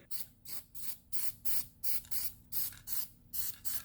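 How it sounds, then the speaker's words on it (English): Ten or so short bursts of zinc primer aerosol hiss in a steady rhythm, each about a quarter second long, fairly quiet and close, sprayed during a brake pad and rotor job. "go ahead and give it a spray"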